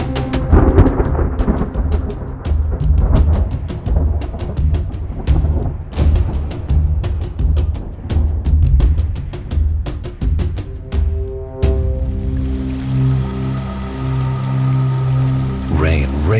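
Steady rain falls with occasional low rumbles of thunder in Kislovodsky National Park, Russia, loud and close, while a musical score plays over it.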